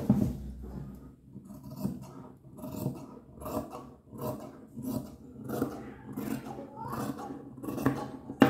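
Scissors snip through a piece of cap fabric along a curved marked line, making a steady series of soft crunching cuts close by, with faint rustling of cloth between snips.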